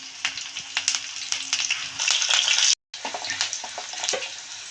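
Green chillies and curry leaves dropped into hot oil in a pan for a pepper chicken dish, crackling and sizzling loudly and close, with a brief silent break before the frying resumes.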